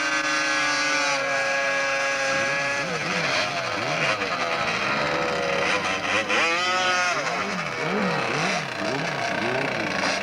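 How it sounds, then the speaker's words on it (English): Two-stroke drag racing motorcycles, including a Suzuki, roar at a 1990s Snetterton drag strip, with loud, sustained engine notes rising and falling in pitch throughout and commentary faintly underneath. "And as competitors out in the 2-stroke class in the left-hand lane is John King on the Suzuki"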